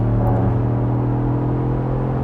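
Ford Bronco off-road SUV under hard acceleration, a steady loud engine rumble with a strong low drone and layered harmonics holding evenly for about two seconds, no talking.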